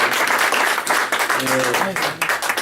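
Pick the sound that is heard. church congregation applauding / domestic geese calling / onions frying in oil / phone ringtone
church congregation applauding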